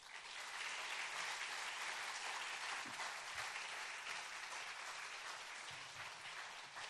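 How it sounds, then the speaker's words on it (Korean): A church congregation applauding to welcome a preacher to the front, a sustained, even clapping from many hands that sounds somewhat distant and soft, with no voices over it. "나오실 때 우리 박수로 우리가 환영합니다"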